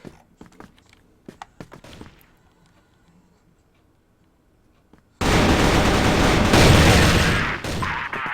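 In the mobile shooter Critical Ops, sparse footsteps and a few single gunshots fade to near silence. Then a loud, dense burst of sustained automatic fire erupts and continues to the end.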